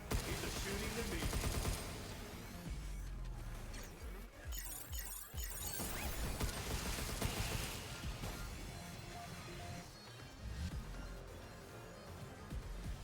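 Video game gunfire, dense bursts of rapid shots and crashing impacts over a loud, busy mix of game sound, heard continuously throughout.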